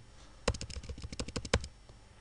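Close, quick typing on a computer keyboard: a burst of about a dozen crisp key clicks in an irregular rhythm, a couple of them struck harder, in a quiet room.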